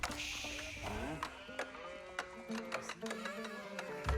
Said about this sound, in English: And a good number of sheep being brought back home.